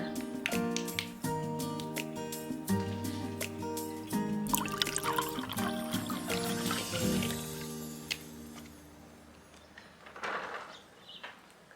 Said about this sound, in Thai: เทน้ำก่อนนะจ๊ะ